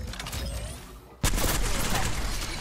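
Gunfire from the video game Apex Legends, a sudden loud burst of rapid shots that cuts in after a quieter stretch and keeps rattling on as a dense, close fusillade.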